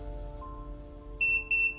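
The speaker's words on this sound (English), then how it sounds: "after the device gives 2 beeps" A portable X-ray device gives two short, high electronic beeps in quick succession over a faint low hum.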